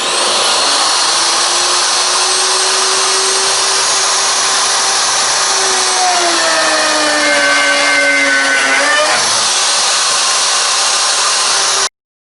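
A plunge router with a 1-inch bit set three-quarters of an inch deep whines steadily as it cuts recesses for fittings into a wooden kayak deck, its pitch dipping and rising as the cut loads it, loud and close, then cutting off abruptly.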